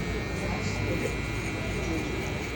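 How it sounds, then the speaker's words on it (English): Electric trimmers buzz steadily at close range while clearing a client's facial hair down to the skin during a low fade haircut, a constant motor whir with faint texture from cutting. "just balding out my client's facial hair with the trimmers"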